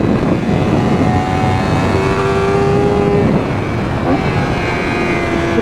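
Loud, continuous engine roar of a 2024 Honda Fireblade SP motorcycle at speed, with rising and falling pitch sweeps as it revs.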